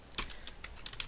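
Quick keystrokes on a computer keyboard as a short comment is typed, a handful of soft, close clicks in an uneven burst over about a second with no voices.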